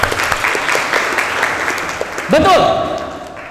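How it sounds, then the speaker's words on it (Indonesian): Applause from an audience at a leadership talk, a short stretch of dense clapping that gives way to a speaking voice near the end. "Tepuk tangan."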